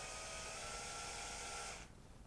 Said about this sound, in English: just take your time, rotate the shaft as you go, low speed, need a fairly sharp drill bit